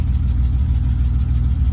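BMW E30 engine running while warming up, with an alternator belt that squeals; a steady, loud, low idle rumble heard close up, even and unbroken throughout, no voices.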